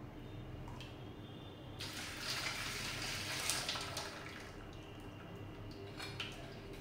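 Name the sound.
warm jaggery water being poured and strained into a wide vessel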